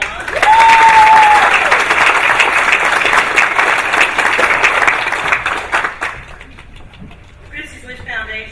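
An audience at a 2019 O'Connell College Preparatory School event applauds a $1.1 million fundraising total. The clapping is loud and full for about six seconds, then quickly thins out and dies away, with a brief whistle-like tone near the start.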